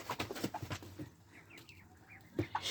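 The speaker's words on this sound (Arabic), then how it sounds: "شايفين الفراخ بتاعتنا عسل عسل عسل" Chickens kept on a rooftop alongside ducks give soft clucks and short chirping calls, with faint scratching and rustling close by. The sounds are quiet and scattered, and no one talks.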